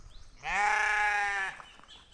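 A single sheep on a farm pasture lets out one loud, close bleat lasting about a second, with quiet background before and after.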